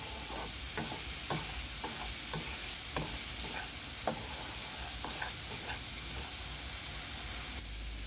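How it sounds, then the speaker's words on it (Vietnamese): Candied pomelo peel stirred in thickening sugar syrup in a pan, giving a continuous soft sizzle with repeated scraping strokes of the spoon at an irregular rhythm. "mình cứ đảo cho đều tay nhanh nhanh nha cả nhà, đừng có để cho bị khét nha"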